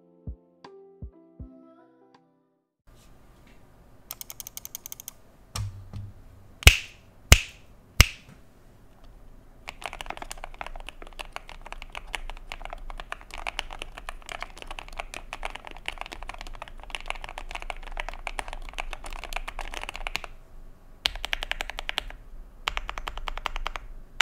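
Keystrokes on a KBD67lite mechanical keyboard, a steady run of close, crisp typing clatter with a few sharp snap-like clicks before it, no talking.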